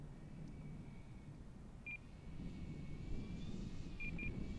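A Twin Timber 1.6m RC airplane motor at idle power hums softly with a low steady drone over grassy ground, faint and even, with a couple of short high electronic beeps.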